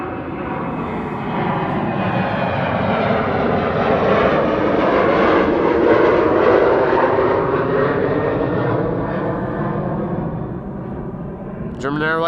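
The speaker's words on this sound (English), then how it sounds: "German Airways Embraer 190 on its way." An Embraer 190 jet taxis at Amsterdam Schiphol Airport on a sunny winter day, its engine roar and whine swelling and then fading as it passes nearby, with a voice talking over it.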